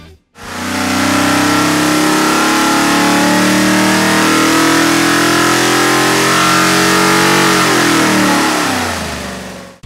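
A 427 cubic-inch LSX engine on a dyno pulling hard up to 5500 rpm, one loud sustained rising rev that holds and then drops off sharply, alone without voices.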